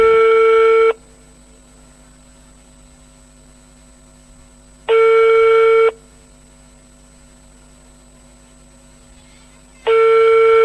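An outgoing phone call to a prize winner at a cottage industry trade fair rings unanswered. Loud electronic ring tones about a second long come three times at even intervals, with quiet gaps between them.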